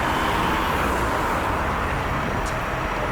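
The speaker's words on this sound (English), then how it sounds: "Porsche Cayenne." A Porsche Cayenne drives past on a busy city street near Côte-Vertu, its engine and tyre noise blended into a steady, fairly loud wash of surrounding traffic with no distinct swell.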